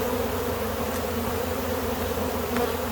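Dense, steady hum of honeybees swarming around an open hive as a beekeeper fits queen excluders, a continuous close buzz with no pauses and no talking.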